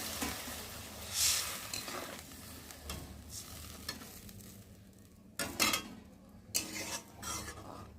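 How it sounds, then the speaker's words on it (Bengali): Water splashes into a pan of sizzling fried spice paste for an egg curry, with low frying crackle and scraping stirs, then short loud bursts of hissing spatter as the water hits the hot oil. "আর এখন এর মধ্যে আমি জল দিয়ে দেবো"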